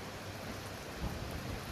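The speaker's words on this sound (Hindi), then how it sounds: "बारिश हो रहा है बाहर" Rain falling outside as a dense, continuous hiss with a faint low rumble underneath, steady throughout and free of any voices.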